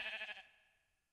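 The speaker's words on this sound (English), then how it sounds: "I went and grabbed myself a sheep from outside, just a random sheep that was out there." A single short sheep bleat in the Minecraft video game, quiet and brief with a wavering tone that fades out, heard alone.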